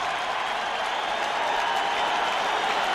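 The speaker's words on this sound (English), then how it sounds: "That cheer that you hear is for Deion Sanders coming back in the field" Large stadium crowd at a 1999 NFL game, Washington Redskins at Dallas Cowboys, cheering for Deion Sanders as he returns to the field; a dense, steady roar fills the air throughout, with no voices standing out.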